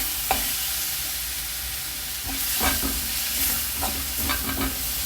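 Onion, salt and spices are stirred in a hot frying pan, a soft sizzle under repeated scraping strokes of a utensil, close and unhurried.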